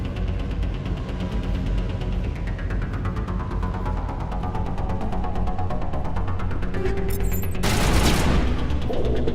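Sustained gunfire rattles through a Mass Effect Legendary firefight, a dense continuous barrage with a low droning hum, ending in a loud sharp blast near the close.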